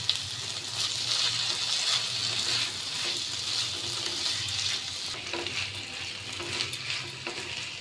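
Chicken being stirred and fried in a pan on a gas stove, with a steady, close sizzle and scraping stirring strokes running throughout, no voices.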